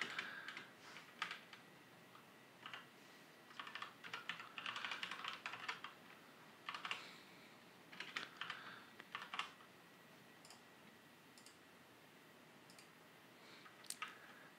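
Fingers type on a computer keyboard in bursts of quick, close clicking keystrokes separated by short pauses, with no voices.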